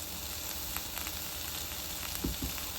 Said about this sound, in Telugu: ఇవన్నీ ఒకసారి ఫ్రై అయినప్పుడు ఇప్పుడే మనం ఉప్పు పసుపు వేసుకొని ఫ్రై చేసుకోవాలి